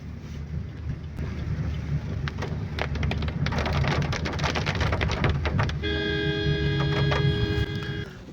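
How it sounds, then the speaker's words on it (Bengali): Heavy rain pours steadily through a fierce windy storm on the road from Berhampur toward Daringbadi, a loud, dense roar of drops with sharp spatters, continuing without pause and with no talking. "এত জোরে বৃষ্টি হচ্ছে সে আর বলার মতো না"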